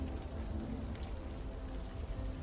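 Rain falls in the video game Unavowed as a steady, dense hiss of drops pattering on surfaces, constant and fairly close with no voices.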